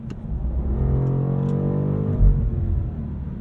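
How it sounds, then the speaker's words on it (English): A 2023 BMW M850i Gran Coupe engine pulls hard under acceleration, a steady throaty roar with rising harmonics that swells and holds, close and loud, with no voices. "That was some ferocious acceleration there. And the sound wasn't bad either"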